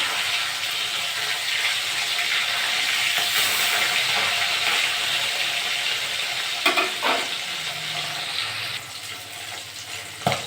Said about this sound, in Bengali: মাছগুলো এক সাইডে ভাজা হয়ে গেছে আমি এবার উল্টে দেবো